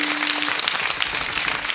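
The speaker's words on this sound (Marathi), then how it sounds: "ते तुम्हाला त्या ओव्या माहीत नसल्यामुळे टाळ्या वाजवल्या तुम्ही" Audience clapping at a Marathi religious discourse honouring Sant Nivruttinath Maharaj, a dense, steady patter of many hands sustained through the moment, with no voices over it.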